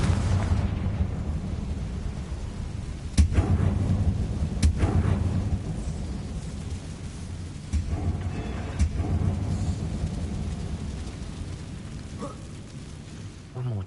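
Confringo blasting spell explosions in the Hogwarts Legacy video game: a few sharp booming bursts spaced over a low rumbling game background, moderately loud, with some voice underneath.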